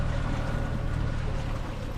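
Low, steady drone of the engine on a MacGregor 26M sailboat under way, a constant hum mixed with wind and water rush, close and unbroken with no speech.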